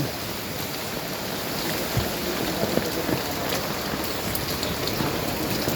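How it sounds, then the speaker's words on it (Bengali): Rain falling steadily in a village, a dense even hiss of drops on surfaces with a few louder splashes, no voices. "বৃষ্টি বৃষ্টি বৃষ্টি কত সুন্দর"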